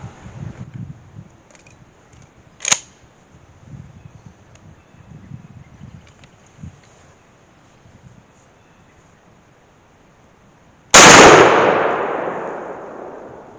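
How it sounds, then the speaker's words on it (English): A shotgun loaded with Winchester number 4 shot fires once outdoors, a single sharp loud blast with a long fading tail, after quiet rustling and a brief click. "first shot is with the Winchester number 4"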